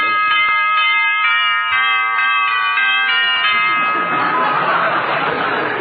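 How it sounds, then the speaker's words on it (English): An old doorbell rings in a long, repeating chime pattern of bright tones, loud and close, then gives way to a noisy burst with laughter from people in the room. "you really fixed that doorbell"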